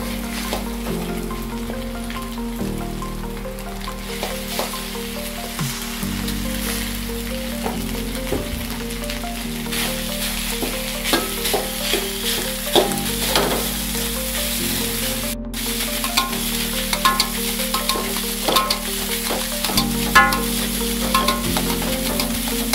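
Overnight rice stir-fried for fried rice, a continuous close sizzle and crackle with repeated scraping and tossing strokes from a spatula or wok, steady throughout without speech.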